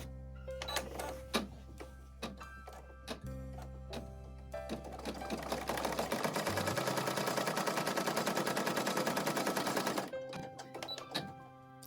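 An embroidery sewing machine stitches a design onto cloth doll clothes, starting with a few separate clunks, then running as a loud, rapid, rhythmic mechanical chatter for about six seconds before stopping with scattered clicks.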